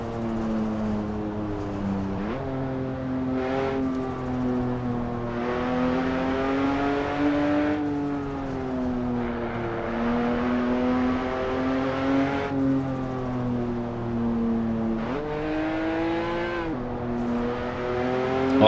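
Lotus Emira engine in Assetto Corsa Evo, a steady loud drone rising and falling through gear shifts with repeated revving surges and brief lifts, running continuously for the whole stretch without any talk.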